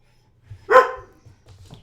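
Dogs bark indoors, a single loud bark at close range followed by a few fainter yips and a low rumble, with no talking over them.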